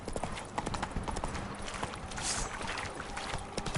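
Roach the horse trotting in the video game The Witcher 3, a steady run of hoof clip-clops over continuous dense game ambience, close and moderately loud, with no speech.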